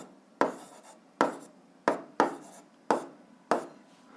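Handwriting an eighth-grade algebra exercise, six distinct pen strokes or short scribbled words on paper, evenly spaced about every half second, close and quiet with no talk.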